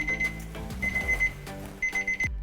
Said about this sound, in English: You set the timer for 30 minutes, then you set the second timer for 15.